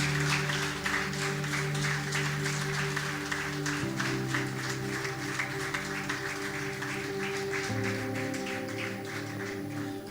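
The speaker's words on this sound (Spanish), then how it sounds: "¿Cuántos dan un aplauso al Señor en esta mañana?" A church congregation applauds during a Sunday morning service, rhythmic clapping in time over sustained organ or keyboard chords that shift pitch a few times.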